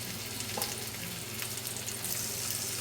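Thinly sliced red potatoes sauté in a pan for a breakfast frittata, giving a steady close sizzle with soft scraping stirs.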